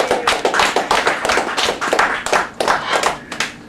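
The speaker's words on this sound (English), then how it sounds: "let's put our hands together and give the Creator a round of applause" An audience claps together at a 2009 'Water Not Weapons' show at the Yippie Museum Cafe in New York City. The applause is loud, close and continuous, with dense, uneven hand claps that swell in irregular bursts.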